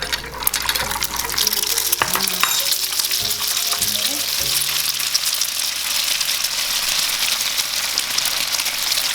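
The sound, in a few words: egg deep-frying in oil for mee krob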